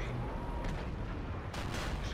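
Tank cannon fire in World of Tanks comes as heavy, booming blasts with rumbling tails, two distinct shots over a constant loud battle din.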